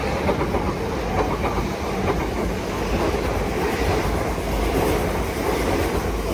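Class 387 electric train, unit 387216, passing through Clapham Junction with steady loud rolling roar and rhythmic clickety-clack of wheels over rail joints, sustained throughout without talk.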